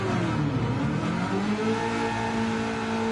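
A race car engine in Gran Turismo 7 revs up toward 7,000 rpm, its loud, continuous tone climbing steadily in pitch before holding high, with no talk over it.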